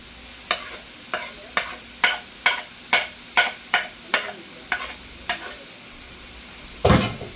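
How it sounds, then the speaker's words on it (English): Vegetables for chicken and broccoli lo mein cooking in a pan, a soft sizzle underneath a regular series of about a dozen sharp spatula scrapes, ending in one louder, longer clatter. "So now it's time to cook up the veggies."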